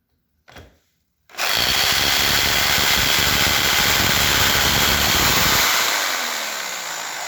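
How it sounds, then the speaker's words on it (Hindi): A rotary hammer drill bores into concrete, starting abruptly after a short burst and running as a loud, dense, continuous grinding hammer that winds down near the end. "तो आप देख रहे होंगे कि इसने इसके अंदर ड्रिलिंग स्टार्ट कर दी है।"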